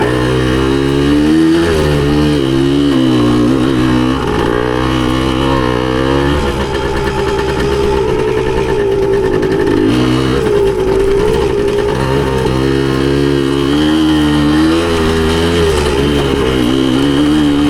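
A 1981 Suzuki DS100 trail bike, newly revived and on its first slow shakedown ride through rocky trail, drones steadily and loudly. The engine note rises and falls gently as the throttle changes, with no break in the sound.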